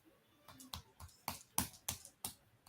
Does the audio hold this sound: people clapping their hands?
yes